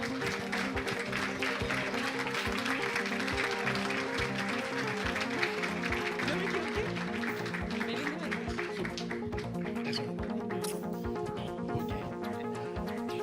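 Warm, sustained audience applause at an evening science talk in a bar setting, a dense steady patter of many hands clapping for several seconds, fairly distant and even, thinning slightly toward the end.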